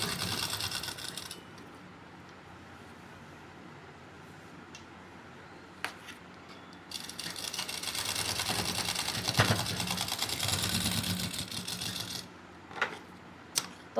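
A sewing machine stitching a kurti sleeve runs in fast rattling bursts, first briefly, then a longer steady run, broken by quiet pauses and a few sharp clicks and knocks.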